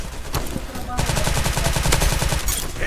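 Rapid gunfire in the video game PUBG, a quick single shot followed by a sustained burst of automatic fire, loud and close, with a voice briefly heard.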